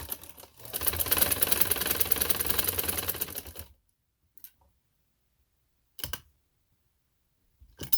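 A sewing machine stitches lace strips onto trousers, running in a steady rattling stretch of about three seconds, then giving a few short isolated bursts separated by silence.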